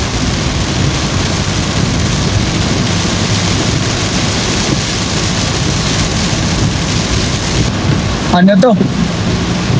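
Heavy rain drums steadily and loudly on a Toyota HiAce van in Tinoc, a dense continuous roar, with a brief spoken question near the end.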